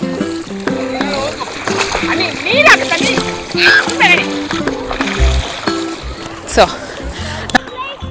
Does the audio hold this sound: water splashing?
yes